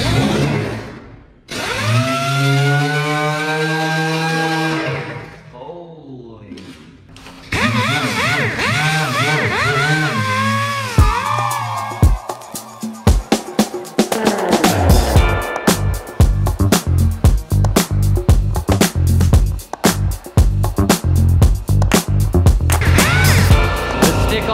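Orbital sanding of a car body, a Subaru 22B STi build, using a red adhesive-backed Home Depot sanding disc; a steady whirring, rasping drone starts partway through and continues up close with stuttering pulses after earlier sounds.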